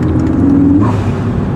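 A car engine idling and humming from inside the vehicle, a steady close rumble with a slight rise in revs partway through, no talk.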